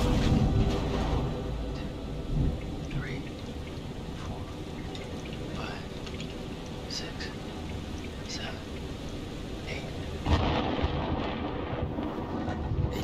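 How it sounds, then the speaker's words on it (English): Steady storm ambience from the video game Man of Medan, with rain and wind noise and low rumbling thunder running throughout at a constant level, a louder swell near the end, and voices talking over it. "8 seconds. The storm's 8 miles away."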